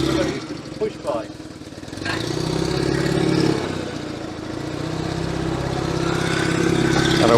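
The engine of an Invacar three-wheeler drones steadily and close by as it pulls away, its pitch climbing slightly as it moves off, with a rattly mechanical edge throughout.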